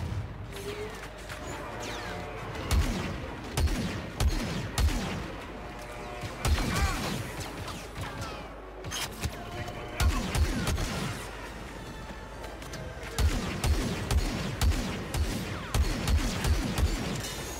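Blaster gunfire during a Star Wars Battlefront 2 battle, dense bursts of shots and booming impacts in repeated clusters with quieter gaps between, loud and continuous over a noisy battlefield background.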